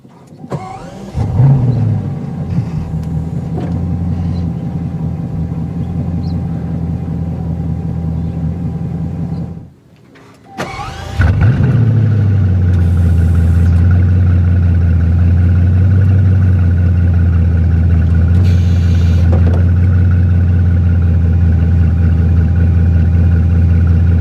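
A Bugatti Chiron starts with a brief whir, then its engine settles into a loud, steady, deep idle. A short quiet pause precedes a second start that roars up and then holds a strong, even rumble close by, with no speech.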